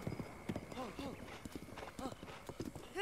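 A horse's hooves clip-clop in a steady gallop in the video game The Legend of Zelda: Breath of the Wild, fairly close. Someone talks over much of the sound.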